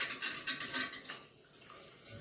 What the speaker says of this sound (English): whisk that until we're nice and clear.